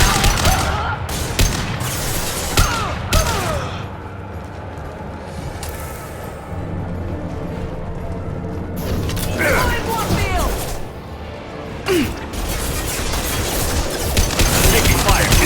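Sustained gunfire in a Mass Effect 2 firefight: rapid bursts and repeated shots with booms, loud and continuous, with voices and combat sound effects mixed throughout.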